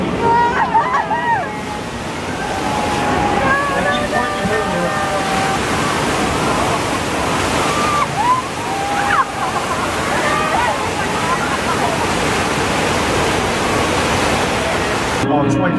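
A staged burst-water-main effect on a Hollywood studio tram tour sends a loud, steady roar of rushing water, and tour riders talk and exclaim above the noise throughout.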